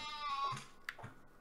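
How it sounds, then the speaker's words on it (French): A single sheep in Medieval Dynasty lets out a quavering, nasal bleat lasting about half a second, with a faint second call and soft clicks after it, heard alone and fairly quiet. "Ah oui, ils ont fait un nouveau bruit pour les moutons, je confirme."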